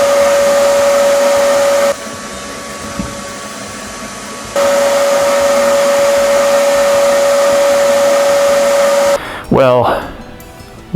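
A small homemade 12 by 12 vacuum former pulls vacuum on heated EVA foam, a loud steady whine and hiss that drops briefly, resumes, then cuts off with a rising, wavering squeal near the end.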